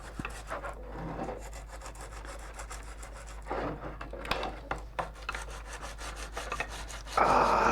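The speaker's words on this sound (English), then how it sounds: "Sanding." Wood being sanded by hand with sandpaper for a guillotine prop, heard up close as repeated rasping back-and-forth strokes, a rougher burst near the end, no talking.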